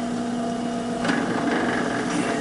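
A small drill whirs at a steady high pitch, then grinds into a metal coin, being made into a ring, with a rougher, scraping tone partway through.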